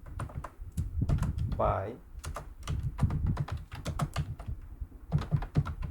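Rapid typing on a computer keyboard while a name is entered in a thesis document, dense close key clicks in irregular bursts, with a single word spoken briefly among them.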